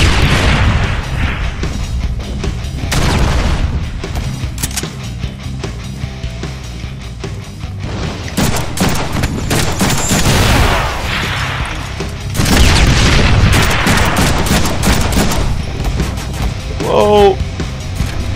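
Rapid gunfire and explosive booms from the Deadpool video game, loud dense bursts of shots and blasts layered throughout, with a voice talking over the action.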